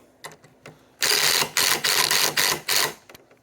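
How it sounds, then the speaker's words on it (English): A screw is driven into a cedar pergola beam by a power driver in a series of about six short, loud bursts with brief pauses between them, preceded by a few faint clicks. "as you're applying slight torque to the screw so that you can feel when it catches the hole"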